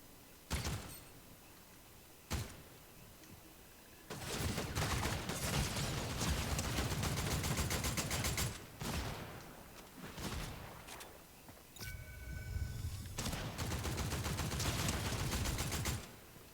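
Rapid automatic gunfire in a Fortnite match comes in two long sustained bursts, loud and close, after a couple of isolated single shots, with no talk.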